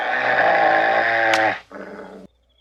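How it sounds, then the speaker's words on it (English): A dog in a film scene lets out a sustained, loud growling bark that breaks off, then a shorter second vocal burst follows before sudden silence, heard alone with no talking. "the dog is barking and slaps the dog in the head"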